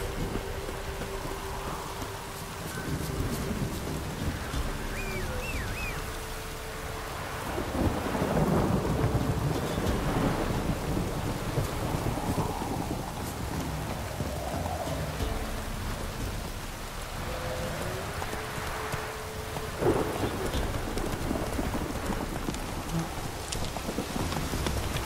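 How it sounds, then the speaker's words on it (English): A thunderstorm in The Witcher 3 pours steady rain on surfaces while deep thunder rolls in long rumbling swells, loud and enveloping throughout with no talking. "The storm, damn it."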